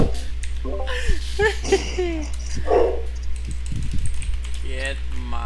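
A dog barks in short bursts during a live stream, mixed with someone talking, keyboard clicks and a constant low hum.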